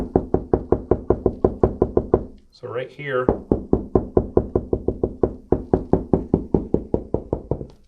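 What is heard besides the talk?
knocking on wall to find studs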